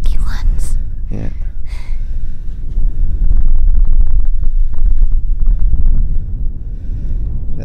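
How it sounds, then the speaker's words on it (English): Strong desert gusts in Merzouga, Morocco, buffet the microphone in heavy low roaring bursts, with faint voices briefly heard under the wind. "It's windy up here. Very windy."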